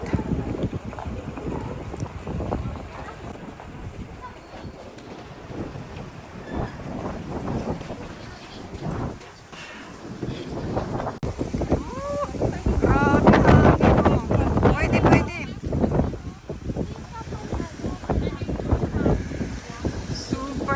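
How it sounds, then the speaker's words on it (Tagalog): Strong gusty wind in Tokyo buffets the microphone for a long stretch, rising louder partway through, with voices faintly audible beneath the rumble. "Super hangin naman."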